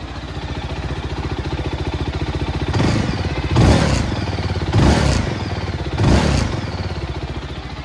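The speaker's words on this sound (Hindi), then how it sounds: "थोड़ा सा एग्जॉस्ट नॉइज़ सुनते हैं इसका" A Zontes 350 twin-cylinder motorcycle idles with a steady lumpy throb, then revs sharply three times, each burst of exhaust roaring loud and close.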